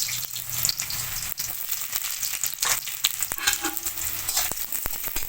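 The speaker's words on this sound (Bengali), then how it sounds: "এবার আমি কড়াইতে তেল দিয়ে দিয়েছি, একটু পেঁয়াজ দিয়ে দেবো" Oil sizzles and crackles steadily in a wok as onion fries, with sharp pops and occasional stirring scrapes, close and moderately loud with no talking.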